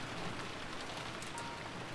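Steady rain falling in a visual novel game scene, a continuous dense hiss with no other sounds, fairly close and even throughout.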